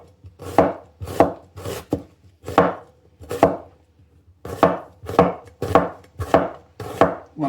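A knife chops through an onion on a cutting board in a clear series of crisp, close thuds, about a dozen evenly paced strokes with a short pause partway through, no talking.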